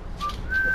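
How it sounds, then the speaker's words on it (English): A person whistling the Jurassic Park theme, two thin, wavering notes rising slightly, close and fairly loud over a low room rumble. "attempting to whistle to Jurassic Park"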